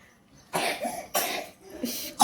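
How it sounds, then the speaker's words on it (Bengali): A small child at home coughs in a series of about four harsh, rough bursts with short pauses between them, each close and fairly loud against a quiet background. "কাশিটাই না হয়েছে"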